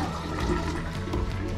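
An electric toilet on a sailing boat in the Canary Islands pumps seawater through the bowl in one steady, loud rush of water that lasts throughout.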